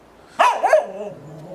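A security camera's canine-mode alarm plays a dog barking twice in quick succession, close and loud, followed by a low trailing growl-like tone.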